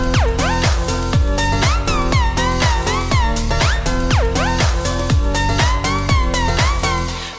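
Distorted synth in FL Studio with portamento, its pitch gliding between notes over a steady pounding beat; dense, loud and continuous throughout, with repeated sliding lines and no talking.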